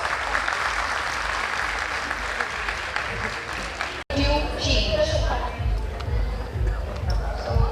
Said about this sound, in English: Audience, please have a huge round of applause.